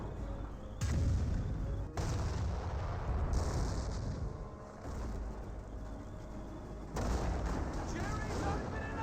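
An officer's Firestorm artillery barrage in Company of Heroes, a sustained roar of heavy booms and rumbling blasts with sharp new impacts landing at intervals, loud, with a commentator talking over it.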